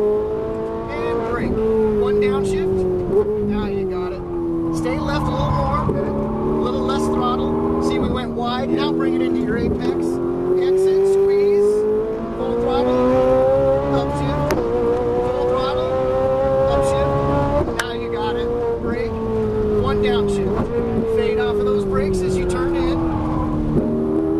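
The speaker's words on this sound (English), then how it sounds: "Full throttle to the orange cones." Ferrari 458 Italia held at full throttle on a racetrack at Auto Club Speedway in Fontana, a steady loud engine drone rising and falling in pitch through gear changes, with an instructor's voice talking over it throughout.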